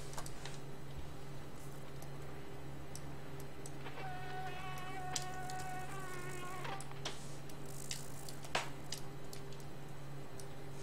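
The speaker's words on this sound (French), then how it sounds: "il y a une mouche bizarre qui bouffe des cadavres" Faint, steady insect buzz from a corpse-eating fly in a video game, droning low under quiet game ambience with a brief tonal chime in the middle.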